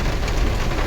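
Steady broadband rain falls close by during a monsoon-season kavad pilgrimage walk, a dense continuous hiss with low rumble underneath and no talk.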